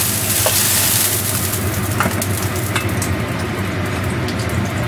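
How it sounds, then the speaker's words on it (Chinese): Chicken pieces pan-frying over high heat, a steady loud sizzle and crackle that fills the pan from start to finish with occasional sharper pops. "咁樣繼續煎風佢，煎風個奇怪個火爐就不停要大火嘅"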